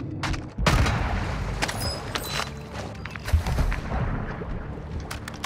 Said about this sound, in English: Oh, are you shooting me?